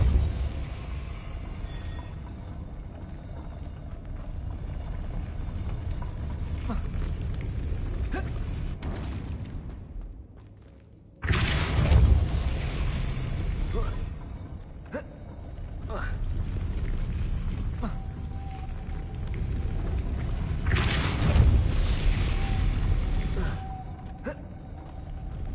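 Depulso spell effects in the Hogwarts video game, two loud whooshing bursts with deep thumping impacts about ten seconds apart, set over a steady magical ambient rumble, with a voice calling out spells.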